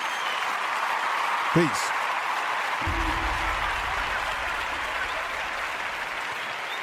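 Applause sound effect, a burst of clapping and cheering that holds steady under a voice talking over it, with a short electronic whoosh partway through.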